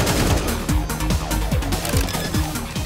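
AK-47 gunfire in Counter-Strike 2 at a PGL CS2 Major match, heard as dense, rapid bursts of shots that run continuously and loudly, overlapping into a sustained barrage.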